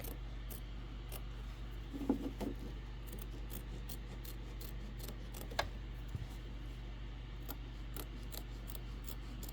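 Scissors trim fabric close to the stitching on a quilt ornament block, a few quiet, isolated snips and rubs over a near-silent background with no talking.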